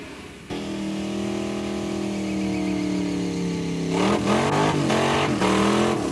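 A 1981 Camaro Z28 drag racing car with a 455 cubic inch Pontiac engine revs loudly and steadily close by, its pitch climbing slowly before a burst of sharper, rising revs near the end.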